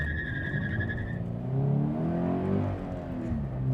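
A worn FRS sports car peels out, a brief high tire squeal up front giving way to the engine revving hard and climbing in pitch as it accelerates away, loud and close with no talking.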